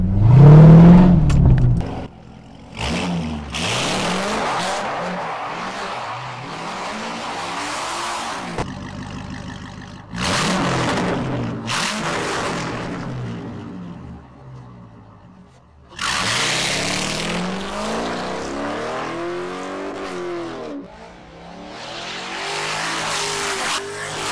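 Chevrolet Corvette C5 V8 revving hard through its exhaust, loud repeated bursts of throttle rising and falling with rumbling idle between, close and forceful, no talking.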